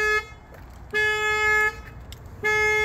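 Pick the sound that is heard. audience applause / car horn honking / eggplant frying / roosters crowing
car horn honking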